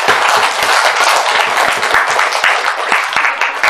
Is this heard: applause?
yes